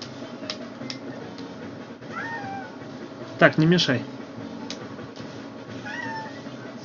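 A cat meows nearby, with one loud, sharp meow in the middle and fainter mews around it, while a person speaks briefly.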